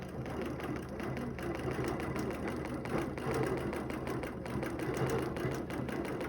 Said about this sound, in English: This would be more the pace I would stitch at.